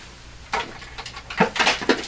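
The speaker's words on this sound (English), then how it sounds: "That sound you heard was the base plate falling on the floor." A metal base plate from a Delco R1238 tube radio drops onto the floor, giving a few short clattering knocks and a brief rattle in quick succession, fairly close and otherwise quiet.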